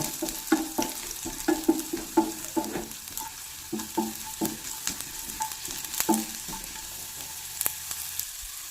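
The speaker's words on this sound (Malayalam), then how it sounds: "അപ്പോൾ നമ്മുടെ വെളുത്തുള്ളിയും ഇഞ്ചിയൊക്കെ കിടന്ന് നന്നായിട്ട് വഴണ്ട് വന്നിട്ടുണ്ട്" Garlic and ginger sautéing in a pan, a soft steady sizzle with repeated scraping taps of a spoon stirring through them, close and moderately loud, no voices.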